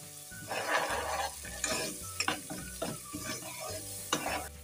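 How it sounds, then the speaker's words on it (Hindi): Ginger-garlic paste and dry masala fry in a pan for mash ki dal, a soft steady sizzle broken by several close scraping stirs and light spoon taps, with no talking. "पेस्ट शामिल कर दें और हल्का सा फ्राई करें।"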